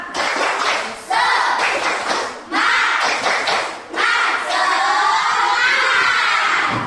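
Classroom children shout a rhythmic spirit chant with claps, loud and close, in several bursts separated by brief pauses.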